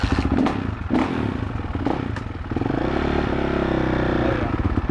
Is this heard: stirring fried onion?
no